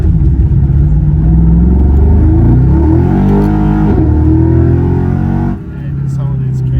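A deep, powerful 1,000-horsepower Naran hypercar engine rumbles and revs loudly, rising and falling in pitch, then drops off abruptly near the end.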